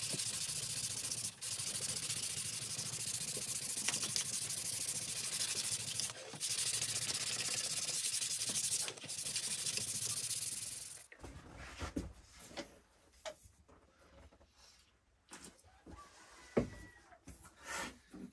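Fine-grit sandpaper rubs steadily across a wooden dovetail box, a close, continuous scratchy hiss for about eleven seconds, then the sanding stops and only scattered quiet knocks and handling noises follow.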